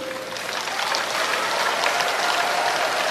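Steady applause from a worship congregation at a charismatic Catholic healing service, many hands clapping together at an even level for the whole stretch, with no talk over it.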